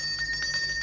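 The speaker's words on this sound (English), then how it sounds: "I wonder why he's ringing the bell when the gate's already open." A gate bell rings repeatedly in quick, even strikes, bright and steady, with a constant low hum beneath it.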